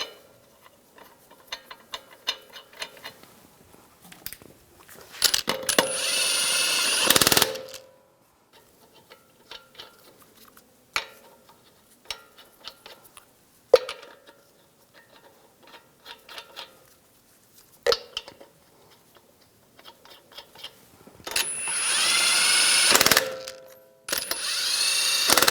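Lug nuts are threaded and snugged onto a front wheel of a 2011-2018 Ram 1500 3.6L V6 in a garage, with bursts of clicking ratchet and loud spinning-tool noise separated by quiet pauses.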